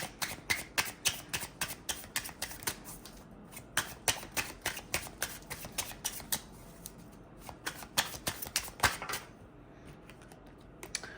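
Tarot cards being shuffled, a steady run of quick crisp riffling flicks close by with a brief pause midway, no voices.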